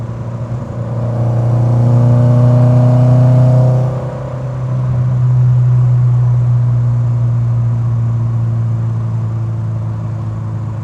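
A modified Opel Kadett Superboss with a naturally aspirated engine revs hard from inside the cabin, a loud steady drone climbing in pitch, dropping briefly at a gear change, then pulling strongly again.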